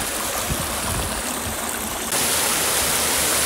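Continuous roar of a hidden waterfall in Bahria Town, Karachi, water rushing over broken stone into a deep pool, loud and even throughout, briefly growing brighter partway through, with no voices.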